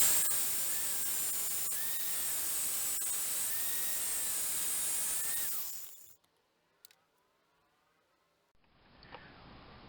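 A cutting wheel slices through a reinforcement plate during a door noise repair on a Cadillac Catera, giving a loud steady hiss for about six seconds. It then stops abruptly, leaving near silence and a faint hiss near the end.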